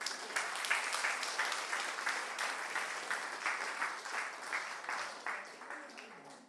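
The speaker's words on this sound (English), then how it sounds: "give them a round of applause" A church congregation applauds children after an activity game, a continuous wash of many hands clapping at moderate, fairly soft level throughout, fading slightly toward the end.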